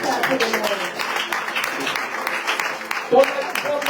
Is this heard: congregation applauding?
yes